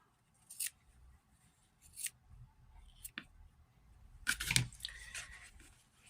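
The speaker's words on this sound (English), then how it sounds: "have your scissors handy, and clip off the wings" Several sharp scissor snips clipping fabric at irregular intervals, with a cluster of quick cuts near the end, close and fairly quiet against a soft background.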